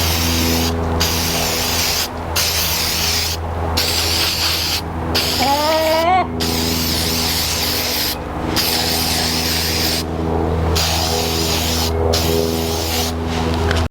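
Repeated short hissing bursts of acrylic gloss aerosol spray onto wooden plant markers, each a second or so, separated by brief pauses over a steady low background hum.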